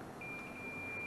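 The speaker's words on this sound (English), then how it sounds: "I got a beep, and it says 11 ohms." A multimeter gives a continuity check beep while testing a heat pump air handler's electric heater circuit, a single thin, steady tone lasting about a second, faint against a quiet hum.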